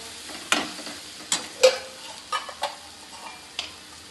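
Spiced peas being stirred in a pan with a spoon, producing several distinct scraping clinks spaced irregularly over a faint background sizzle; no talking.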